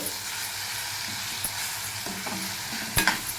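Food seasoned with salt and turmeric is stirred in a hot pan, a soft sizzle beneath a few sharp scraping clacks of the utensil against the pan, the loudest knock near the end.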